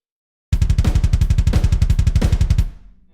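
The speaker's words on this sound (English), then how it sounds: "If you move the snare too far away," Programmed drums with the snare nudged out of time against the kick, a rapid stream of punchy hits that sound slightly smeared and doubled, loud and alone for about two seconds before fading out.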